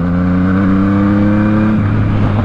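A Yamaha MT-09 motorcycle engine revs loudly and close up, holding a steady, throaty drone before its pitch drops near the end, with no talking.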